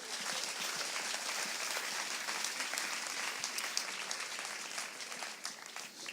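A church congregation bursts into sustained applause to acclaim the Lord, dense steady clapping filling the room for several seconds at moderate distance.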